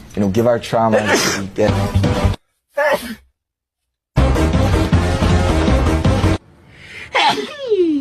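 Several sharp sneezes from BTS members burst out between bouts of speech, each a quick loud explosive snort, with talking and laughter around them.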